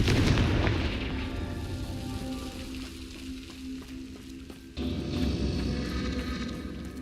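A Confringo fire spell blasting in Hogwarts Legacy, a rumbling crackling explosion that fades over several seconds, then a second sudden burst near the end, all fairly loud with no voices.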